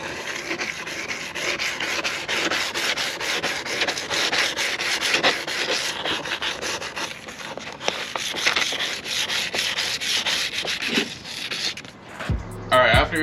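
A plastic rear diffuser for a Dodge Charger is sanded with P320 sandpaper, producing a continuous close, steady rubbing scrape that carries on for several seconds before ending in a few handling knocks.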